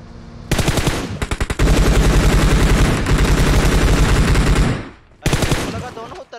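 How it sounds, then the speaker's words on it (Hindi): Loud, sustained automatic M4 gunfire in PUBG Mobile rattles in rapid bursts, briefly pausing before another burst resumes; a voice is faintly present under the shooting. "दोनों उतर गई है तो एक उतर के मार रहा है गोलियां"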